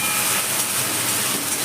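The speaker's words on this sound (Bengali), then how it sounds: "এখন প্রচণ্ড ছিটকাচ্ছে" Ginger garlic paste fries in hot oil in a pan, spattering with a dense, loud hiss that holds steady through the brief moment, with no one speaking.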